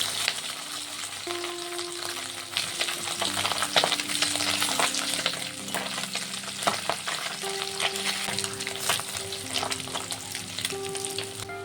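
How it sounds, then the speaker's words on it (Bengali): Small morola fish fry in hot oil until crisp, giving a steady, close sizzle with stirring scrapes, while soft music plays underneath. "মোরলা মাছগুলোকে একটু কড়া করে আমি ভেজে নেব।"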